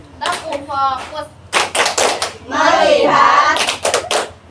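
A small group plays the clapping game 'tepuk fokus', bursts of sharp, close handclaps in quick rhythmic clusters alternating with voices chanting in unison between the claps.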